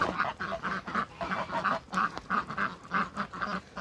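A gander, a male goose from the previous year, calls at a French bourbonnais poultry show, giving a steady series of loud, nasal honks about every half second amid hall noise.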